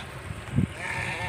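A Texel cross sheep gives a single short, low bleat at close range, heard over a steady background hum in a lambing pen.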